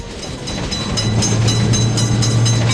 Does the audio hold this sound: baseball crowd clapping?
no